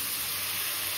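Water poured into a pan of fried-down spices for a fish curry, a steady broadband rushing hiss that stays even and close for about a second.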